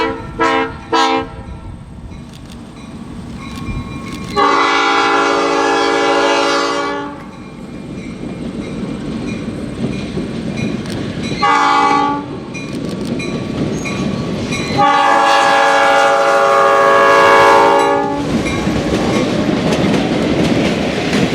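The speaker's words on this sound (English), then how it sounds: "the Rock makes its second run by with the caboose train." A Rock Island diesel locomotive hauls a caboose train past at the Illinois Railway Museum, sounding its horn in two long chords over rumbling engine and clattering wheels, loud and close, with no voices.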